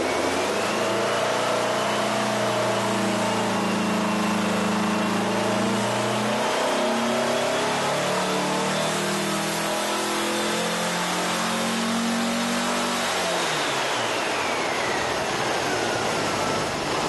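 A Volkswagen 1776 air-cooled engine fitted with Weber IDF carburetors runs on a dyno, its steady loud roar climbing and falling with revs, a rising whine above the throttle changes, with no one speaking.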